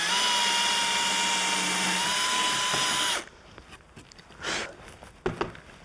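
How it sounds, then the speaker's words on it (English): A power drill with a countersink bit bores into wood, a loud steady high whine for about three seconds before it stops, followed by a few faint knocks and rattles. "I'll just show you what this countersink bit does."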